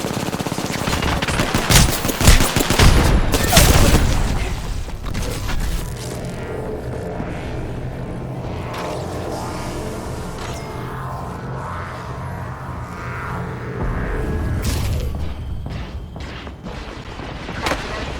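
A frag grenade blast and bursts of rapid automatic gunfire from an Apex Legends firefight, with heavy booms and crackling shots early on that give way to a sustained rumbling wash of fire, loud and close.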